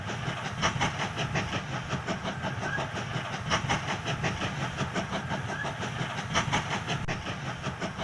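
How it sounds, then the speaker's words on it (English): A train in the video game Mashinky, heard from inside, rumbles steadily with rhythmic clickety-clack wheel beats and engine drone, moderately loud and continuous. "It's a little bit loud when you're in the train."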